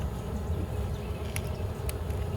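Honey bees being transferred from a nucleus colony into a full hive buzz in a soft, steady low drone close by, with a couple of brief sharp clicks breaking through.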